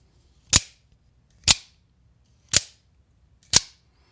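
An axial-shift folding knife action snaps open and shut four times at an even pace, each one a sharp, close, loud click with nothing else around it.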